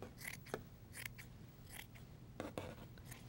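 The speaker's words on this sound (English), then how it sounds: "We want to cut the sleeves off. We're gonna cut from the shoulder line down." Scissors snip through a cotton-poly blend t-shirt, cutting the sleeves off from the shoulder line down, several distinct crisp cuts in an uneven rhythm, close and fairly quiet with no talk.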